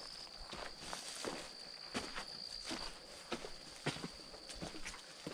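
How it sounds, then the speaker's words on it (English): Heavy, plodding footsteps of a tired hiker on a ravine trail, a steady series of soft dull thuds about every half second, faint and close, with an insect drone running underneath. "I can feel how tired I sound just listening to my heavy breathing here and heavy plodding footsteps."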